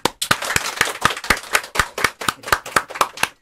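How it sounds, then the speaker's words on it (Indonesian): A small group claps at a podcast taping, giving short, evenly spaced sharp claps that sound close and crisp, with no voices over them. "Kita tepuk tangan ya."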